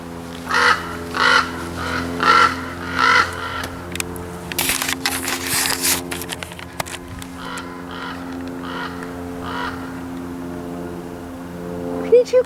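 A loud raven caws in a series of harsh calls near the start, then the air settles into a low steady hum with a sharp burst of noise midway.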